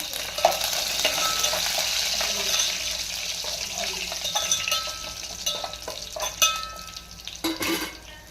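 Curry leaves and tempering spices crackle and sizzle in hot oil for a brinjal and raw mango dal, a steady dense frying hiss with scattered sharp pops close by, with no talking.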